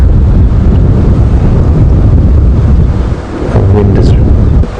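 Wind buffets the microphone during a safari drive at Djuma Game Reserve, a loud continuous low rumble that dips briefly near the end.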